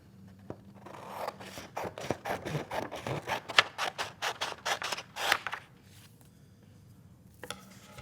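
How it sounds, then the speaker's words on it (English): Scissors snip through a sheet of paper in a quick, rhythmic run of crisp cuts, heard close up, then stop, leaving a quiet paper rustle and a last snip. "I'm going to take my scissors and I'm going to cut, I don't know, maybe a quarter of the way down the page"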